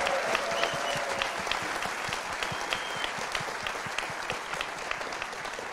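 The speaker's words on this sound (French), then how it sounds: "Vous pouvez applaudir, évidemment" A live audience at a Paris basketball talk show recording applauds steadily, a dense, sustained wash of clapping from many hands with no speech over it.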